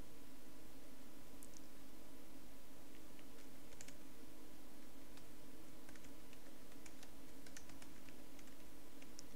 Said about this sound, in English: I'm just mistyping again and again, it's probably my keyboard.